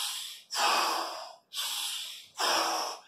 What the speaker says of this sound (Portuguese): Ninguém respira fungando e soprando.